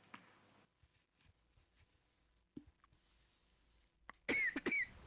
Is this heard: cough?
yes